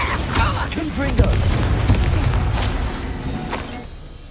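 A Confringo spell explosion in Hogwarts Legacy combat, a booming burst with thuds and crackling blasts in a dense battle mix, as voices call out around it before the noise fades to near silence.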